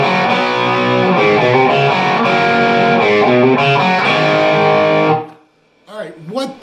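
Distorted electric guitar playing the riff, a loud, dense chugging line of shifting chords lasting about five seconds before cutting off, followed by a brief faint bit of sound.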